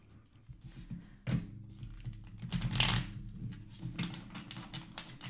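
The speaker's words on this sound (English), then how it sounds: "I'm just going to do one more quick shuffle. This deck is notoriously hard to shuffle." A stiff tarot card deck is shuffled by hand in quick bursts of riffling, slapping and tapping card sounds, fairly close and fairly loud, with no talking.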